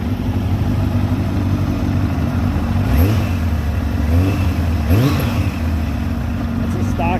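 Suzuki and Honda motorcycles, just started cold with a stock exhaust on one, idle with a steady rumble and are blipped up twice in short revs, under a person talking.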